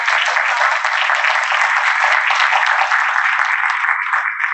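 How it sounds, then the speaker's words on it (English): An audience at a 2022 community economic development meeting applauds steadily, a full, even wash of many hands clapping that holds for several seconds with no talking. "I would love to give a big round of applause to Miss Lila"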